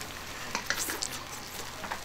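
Cured pork (larou) stir-fried with brown sugar in a hot pan sizzles steadily, with scraping spatula strokes and light clatter at an uneven rhythm, close up and without any talking.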